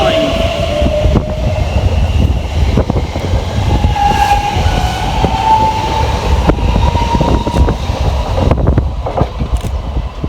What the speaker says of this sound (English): next out to depart, 3:45:046, working the 13:25 Elizabeth line service from Shenfield through to Heathrow Terminal 5.